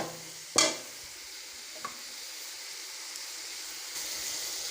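Spiced chickpeas cooking in a pot get stirred, a sharp scrape and clatter of a spoon followed by a softer knock, over a low steady hiss of frying.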